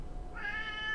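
A pet cat gives one short meow with a rising, harmonic tone over a constant low hum, close by and fairly clear.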